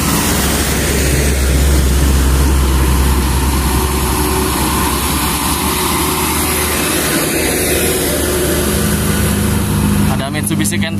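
Trucks including a Hino Dutro and a Mitsubishi Canter labour uphill on a road near Bogor, a loud continuous low engine drone rolling past close by while someone talks over it.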